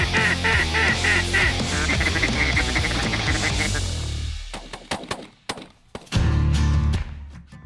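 Dense flocks of ducks quack loudly and continuously at a Manitoba waterfowl hunting area, many overlapping calls close and far, thinning into a few sharp honks and quacks before swelling again.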